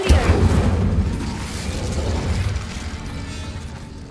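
A fire spell cast in the video game Hogwarts Legacy, a single deep booming whoosh of flame that bursts loudly at the start and then rumbles and fades over a few seconds.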